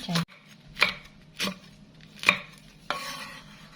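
Knife chopping green chilies on a cutting board, about five separate sharp knocks spaced roughly half a second apart, close and fairly quiet with low background hum.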